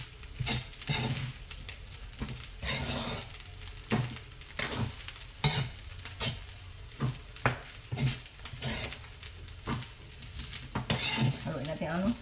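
A utensil scraping and clinking against a pan while homemade fried rice is stirred with salt, rhythmic irregular scrapes over a soft sizzle, close by.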